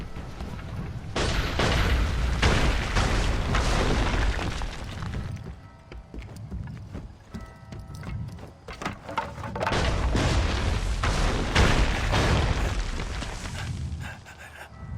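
Cannon fire in Assassin's Creed III sends loud booming explosions rolling one after another, dropping briefly into a quieter rumbling stretch before heavy blasts return.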